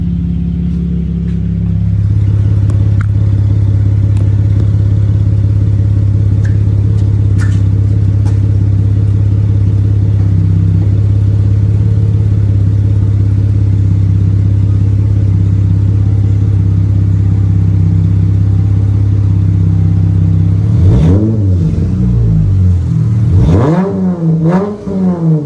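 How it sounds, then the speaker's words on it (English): A modified car exhaust idles with a deep, steady rumble and is then revved hard several times near the end, rising and falling in sharp bursts, loud and close with no talking. "I'm gonna let y'all hear this exhaust though."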